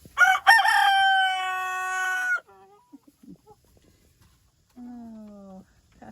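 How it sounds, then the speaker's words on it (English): A pasture rooster crows loudly and nearby in one long, strained call, followed by a few soft clucks and a fainter, shorter crow or squawk near the end, with quiet gaps between. "I do think it's my neighbor's chicken."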